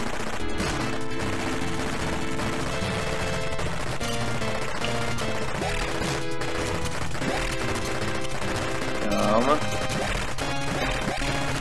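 Rapid gunfire and explosive crashes from the 1985 Capcom arcade shooter Senjō no Ōkami, dense and continuous over driving game music, with someone talking throughout.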